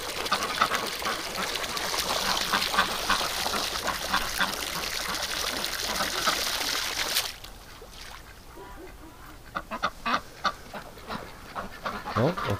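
Water running steadily as a broad rushing hiss for the ducks, cutting off partway, after which scattered quacks and soft clatter follow nearby.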